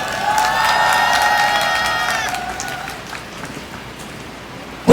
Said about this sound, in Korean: 이 의료농단 사태에 한해서는 한번 박수를 쳐드리면 좋겠습니다